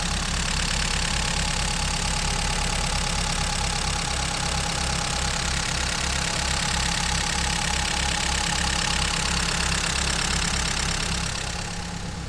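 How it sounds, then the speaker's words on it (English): A turbocharged Fiat Abarth 124 engine idles steadily with an even low rhythmic thrum, close and loud, running unchanged for the whole stretch with no one speaking. "So here's the car running."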